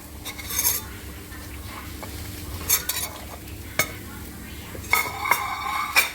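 Whole spices and browned onion being stirred together in a metal pan, with close scraping and clinking of a spoon against the pan over a soft sizzle, in irregular bursts.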